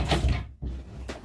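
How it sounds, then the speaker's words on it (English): A door in a house is pushed shut, giving a single short thud in a quiet room with some ambient noise. "Close my door real quick."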